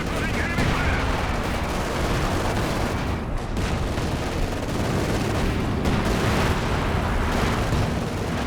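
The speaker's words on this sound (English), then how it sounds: "In comes the mortar cover" Mortar fire thuds amid a continuous barrage of gunfire and explosions in a Company of Heroes 2 battle, loud and dense throughout, with a commentator talking over it.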